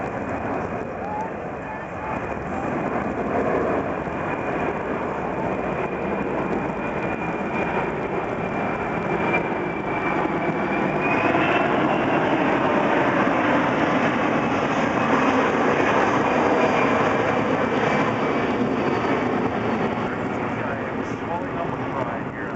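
An RCAF C-17 Globemaster flies past at an air show with its landing gear down, a broad sustained jet roar that swells and holds steady, with a commentator talking over it throughout.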